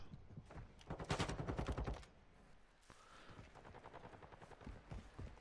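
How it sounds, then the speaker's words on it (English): Rapid automatic gunfire in an online shooter match, a dense burst of close shots lasting about a second followed by fainter scattered firing and background game noise, with no voices. "Dampest Lizard not able to make shots connect."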